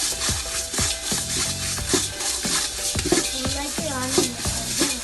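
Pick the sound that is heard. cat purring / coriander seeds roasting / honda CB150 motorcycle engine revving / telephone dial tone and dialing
coriander seeds roasting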